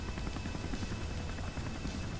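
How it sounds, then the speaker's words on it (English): Autogyro helicopter rotor blades in Kerbal Space Program, a steady droning whir with a fast rhythmic chop, moderately faint and continuous throughout with no voices. "So this helicopter is an auto gyro."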